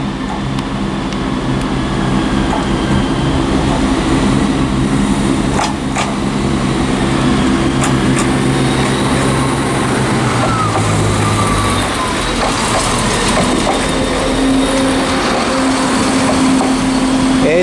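Empty coaching stock train number 17432 pulling out of Edinburgh Waverley station on the East Coast Main Line, a steady low engine drone and rumble that shifts in pitch as it moves off, with station ambience throughout.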